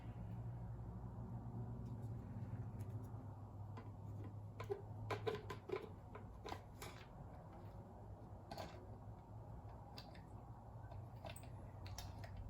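A hand-cranked die cutting machine presses a sandwich of base plate, heart dies and paper through its rollers, giving a steady low rumbling grind with faint irregular ticks and clicks throughout, close and alone.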